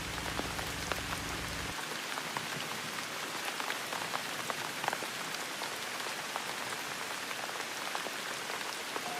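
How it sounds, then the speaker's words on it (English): Heavy rain drums steadily and densely on a taut hot tent, a constant close patter with scattered sharper drops, no talking. "the rain is just beating off. It's getting pounded."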